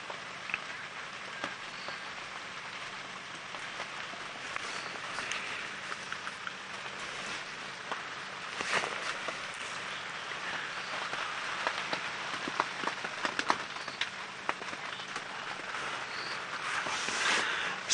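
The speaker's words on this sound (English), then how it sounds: "we've got a lot of static with the rain" Rain falling during a sunrise safari drive, a steady hiss of drops pattering on surfaces with crackling static and scattered sharper taps, fairly faint and continuous for the whole stretch without talk.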